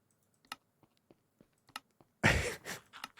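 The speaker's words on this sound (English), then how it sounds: "I can hear you clicking." Scattered computer keyboard clicks during a Minecraft voice chat, sparse and faint, followed by a louder breathy burst like a sigh or gasp near the end.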